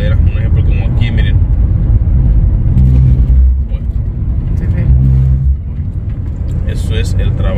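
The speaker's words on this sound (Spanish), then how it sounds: "Están haciendo las rayitas en la mitad para cuando uno cambia de carril se escuche la cortadera" Car tires rolling over freshly cut rumble strips in the middle of a US road, a loud, close, rough buzzing rumble that comes in surges under steady road noise, with someone talking over it.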